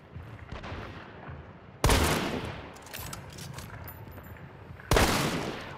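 Gunshots in the video game Hunt: Showdown, two loud sharp blasts about three seconds apart, each with a long echoing tail, over a quieter rumbling background.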